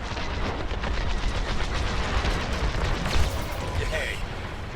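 Rapid laser and weapons fire in an X-Wing space combat simulator video game, a dense continuous volley of blasts with one sharper hit near the end, steady and loud throughout.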